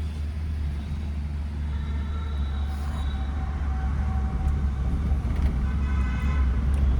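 City traffic at the Munshi Puliya intersection as heard from inside a moving car: a continuous low engine and road rumble, with faint tonal horn-like sounds drifting in from outside.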